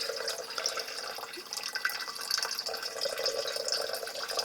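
Leftover water trickles and drips from a disconnected hose into a small jug while a reverse osmosis purifier's filters are being changed. The faint, close patter and splashing is quiet and uneven, with no talking.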